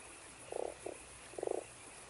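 Three short croaks from a toad in the Fran Bow video game, two longer buzzy calls with a brief one between them, fairly faint and heard alone without talk.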